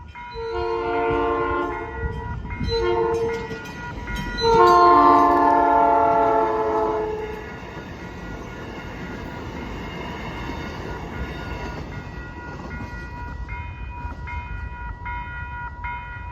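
A train departs Portage Ogden Dunes Station, opening with several loud horn blasts, then settles into a steady rolling rumble of wheels and cars as it pulls away; no talk.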